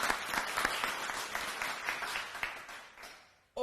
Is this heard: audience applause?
yes